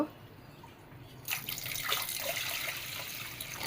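Water is poured over horse gram to wash and strain it: after a quiet first second, a close rush of splashing, running water starts and carries on steadily to the end, with no voices.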